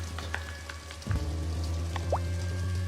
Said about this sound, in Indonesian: karena terhalang hujan yang turun cukup deras